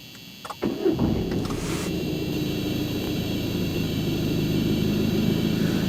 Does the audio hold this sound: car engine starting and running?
yes